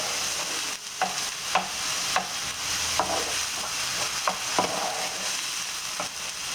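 Chicken and vegetables fry in olive oil over medium heat, giving a steady loud sizzle with regular clacks and scrapes of a utensil stirring every half second or so.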